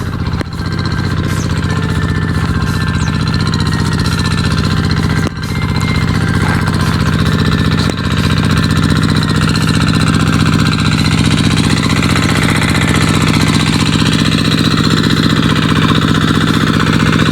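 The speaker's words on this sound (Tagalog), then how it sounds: "ang andar ng motor." A motor-driven water pump irrigating a sugarcane field runs as a loud, steady, droning engine that holds without a break throughout, with a few faint knocks.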